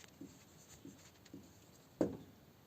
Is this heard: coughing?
no